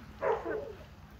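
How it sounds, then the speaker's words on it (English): A dog gives one short, sharp bark or yip while playing roughly with people outdoors, fairly close and loud against a steady background, and no talking. "In the meantime, Wyatt's being attacked by a dog."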